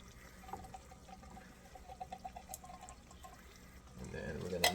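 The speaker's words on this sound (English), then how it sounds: "I'm probably gonna rinse them with water as well" A kitchen container is rinsed with water, heard as faint trickling and dripping that swells into a louder splash of running water near the end.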